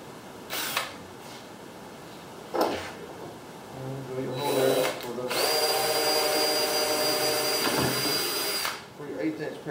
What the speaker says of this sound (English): mark your hole that you're going to drill